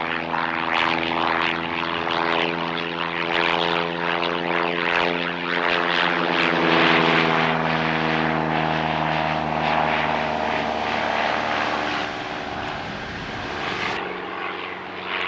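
A small propeller aeroplane drones steadily and loudly overhead as a cartoon sound effect, its buzzing tone sliding lower as it passes, with no voices.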